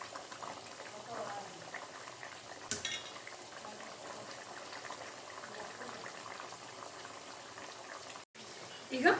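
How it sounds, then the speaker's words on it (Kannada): Chicken liver pepper gravy simmers in a pot with a soft, steady bubbling hiss, close and low in level, and a voice is heard faintly over it. "ಚೆನ್ನಾಗೆ ಕುದ್ದಿದೆ ಹಾಗೆ ಲಿವರು ಚೆನ್ನಾಗಿ ಬೆಂದಿದೆ ನೋಡ್ಬೋದು"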